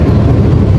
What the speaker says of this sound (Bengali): তো আমাদের ট্রেন এবার খড়দহ স্টেশনে ট্রেন ঢুকছে।